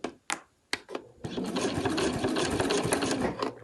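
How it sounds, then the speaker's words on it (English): A sewing machine runs a short back stitch while a travel wallet is finished: a few sharp clicks and taps first, then a steady mechanical whirring run of stitching for over two seconds, close and fairly quiet. "let's go to my sewing machine to do that"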